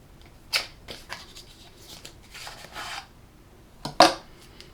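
A new Divine Masculine tarot deck is shuffled by hand, producing several crisp riffling bursts and softer card slides at irregular intervals, up close in a quiet room with no talking.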